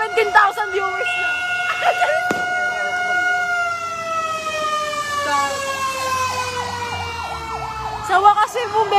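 A fire truck siren wails nearby during a December 31 fire in Panghulo, Malabon, its tone slowly sliding up and down under people talking, with brief sharp horn blasts.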